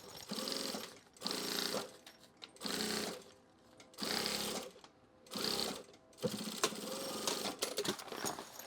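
A sewing machine stitches duffle bag panels in short bursts of rapid whirring, stopping and starting about six times with brief pauses between runs, fairly close and steady.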